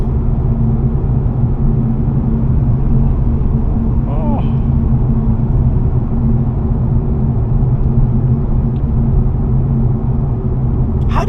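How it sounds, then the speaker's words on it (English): Steady low engine and road rumble inside a 2025 Mercedes-Benz CLE 300 coupe while driving, a constant droning hum throughout with someone talking over it. "The engine, I can't complain about this engine noise."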